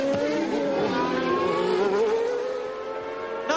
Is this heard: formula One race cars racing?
yes